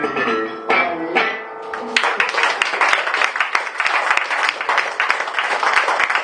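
An audience applauding at a Galician book-and-disc recital, the clapping swelling in after a brief held vocal or musical tone and then staying dense and loud.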